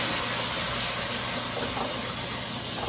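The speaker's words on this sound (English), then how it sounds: "Okay, I'm going to put some water in it." Water runs steadily into a pot of string beans and salt pork, a continuous broad hissing splash, close and even throughout, with no talking.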